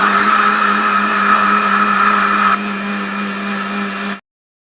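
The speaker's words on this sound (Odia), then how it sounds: "ଆଉ ଗ୍ରାଇଣ୍ଡର ହିଁ ମୁଁ ବୁଲେଇକି କରେ" A kitchen grinder runs steadily, churning cream into butter, its motor drone loud and continuous with a slight drop in pitch partway through before it cuts off abruptly near the end.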